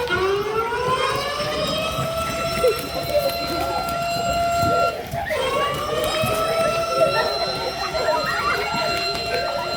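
An emergency siren sounds during an earthquake drill at a Zilla Parishad primary school in Harwadi, rising into a loud, sustained wail that dips briefly midway and climbs again, with voices in the background.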